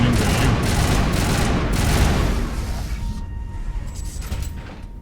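Dense, loud gunfire from a firefight in Mass Effect Legendary Edition roars steadily for about three seconds, then eases into quieter scattered shots and rumble.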